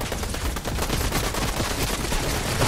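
Automatic fire from a gold AK rifle in a shooter video game, a continuous, loud stream of rapid shots with no pauses and no talking.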